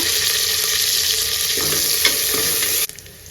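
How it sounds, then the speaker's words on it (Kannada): Onions, crushed garlic and curry leaves fry in hot oil for a festival meal, a loud, close, continuous sizzle with bits of stirring that cuts off abruptly near the end, with no voices. "ಇದಕ್ಕೆ ಕರಿಬೇವು ಸೇರಿಸ್ಕೊಂಡು ನೀಟಾಗಿ ಫ್ರೈ ಮಾಡ್ಕೊಬಿಡೋಣ"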